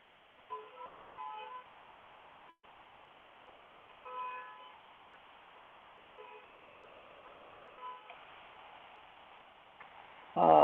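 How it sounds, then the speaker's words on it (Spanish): Distant car horns honk repeatedly in a muffled, faraway jumble over steady background noise from a street protest with pot-banging, with a sudden loud clatter at the very end. "estoy escuchando acá un cacerolazo y unos bocinazos terribles en este momento"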